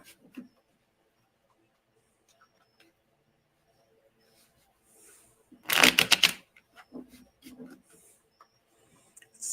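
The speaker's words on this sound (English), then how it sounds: "I'm going to do an extra shuffle on this one" A deck of tarot cards is riffled in one loud, close burst, followed by a few softer taps and shuffles against a quiet room.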